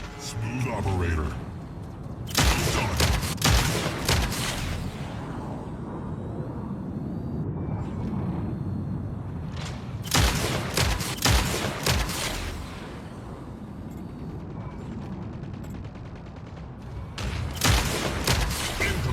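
Gunfire from the Mech Arena video game bursts in loud, dense volleys separated by stretches of heavy mechanical rumble, while a game announcer's voice speaks over the action.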